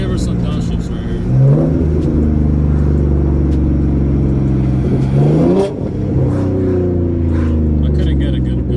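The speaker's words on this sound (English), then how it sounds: "I'm gonna give her some downshifts right here." A V6 Ford Mustang with a loud aftermarket exhaust downshifts on a cold, calm day, heard from inside the car, with the engine rising and falling through several sharp rev blips and throaty rumbling under speech.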